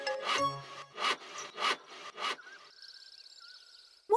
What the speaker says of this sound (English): I'm sawing these logs into planks, said Boris.